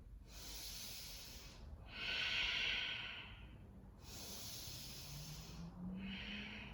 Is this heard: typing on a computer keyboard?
no